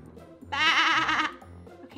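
Toy goat giving one loud, wavering electronic bleat that lasts under a second, close up, followed by a brief second bleat as it starts again.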